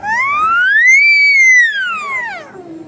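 A voice imitates a cat's meow with one long, drawn-out, rising then falling wail, close and fairly loud.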